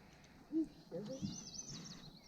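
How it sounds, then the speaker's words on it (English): A bird calls from bushes by the water on an evening canoe outing for largemouth bass in New England, a few short, faint, chirpy notes under soft background noise and quiet voices. "There's a bird."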